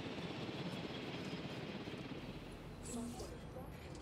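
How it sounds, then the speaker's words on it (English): Helicopter rotor drone in the video game Jurassic World Evolution, a faint steady whir beneath a speaking voice. "I hear the chopper."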